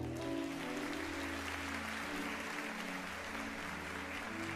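Steady applause from a Portuguese-speaking church congregation during a sermon on prosperity, a dense wash of many hands clapping at low level, with no talk over it.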